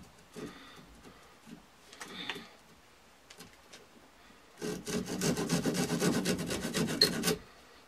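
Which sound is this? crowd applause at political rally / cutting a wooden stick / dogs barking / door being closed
cutting a wooden stick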